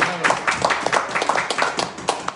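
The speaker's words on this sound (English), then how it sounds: "So we give the Lord a clap." A church congregation claps for the Lord, a dense crackle of many hands beating in a loose, steady rhythm, fairly close and lively, with voices faintly mixed in underneath.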